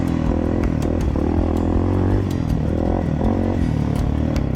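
A cheap 250cc fuel-injected dirt bike engine drones and revs while being ridden over rough terrain, close and loud, with sharp clattering knocks punctuating the rising and falling engine tone.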